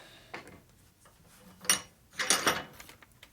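Metal bench vise cranked tight on a part from a 1946 Knucklehead motor rebuild, giving a few short ratcheting, clunking mechanical bursts with quiet pauses between them.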